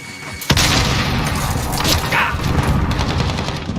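A grenade going off in a first-person shooter game, a sudden loud boom followed by a dense rumble of gunfire and battle noise that fills the rest of the moment.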